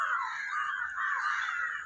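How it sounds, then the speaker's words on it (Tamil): Crows caw loudly and continuously near a home garden, harsh overlapping calls filling the air with no talking. "காக்கா நிறையா கத்துது"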